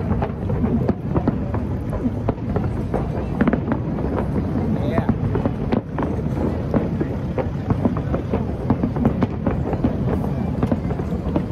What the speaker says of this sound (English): fireworks in the back.